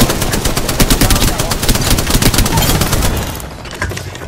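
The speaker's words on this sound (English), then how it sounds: "He's getting shot at." Loud, close bursts of rapid automatic gunfire in the video game Apex Legends, shots rattling quickly in dense strings before easing off toward the end.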